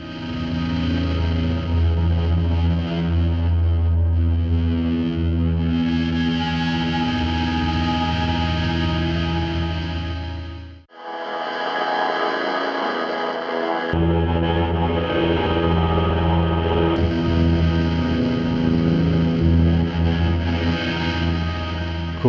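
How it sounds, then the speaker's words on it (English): Bowed electric guitar run through the Bad Speaker distortion plugin, a sustained gritty, harmonically rich drone that cuts out abruptly, returns thinner and brighter for a couple of seconds, then swells back to a full, buzzing tone. "on this bowed guitar, I'm adding even more distortion and harmonics to it using the Bad Speaker"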